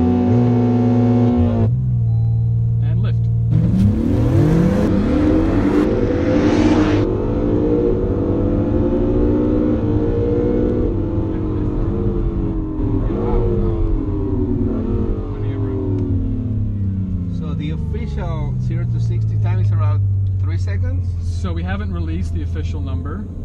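A 2017 Acura NSX makes a launch-control run up to about 95 mph. The engine roars loudly and rises in pitch, with gear changes breaking the climb before it settles into a lower, fading tone.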